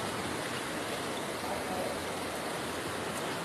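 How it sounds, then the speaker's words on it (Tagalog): After a typhoon, the swollen Kalaklan River rushes past as a constant, loud roar of flowing water with no breaks, heard close up and alone. "Ito po yung ilog ng Kalaklan"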